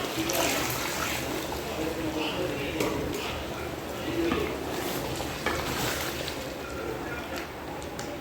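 Water is poured into meat gravy in a pot, a continuous splashing, sizzling rush mixed with stirring, steady and close, while someone talks over it.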